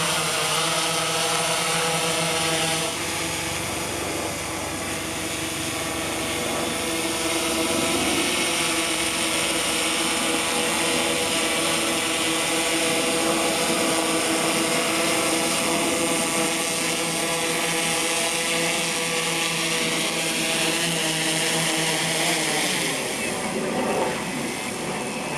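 Walkera Voyager 4 drone with an 18x zoom camera coming in to land, giving off a steady, close, buzzing whine with layered motor tones that holds its level throughout and shifts briefly near the end.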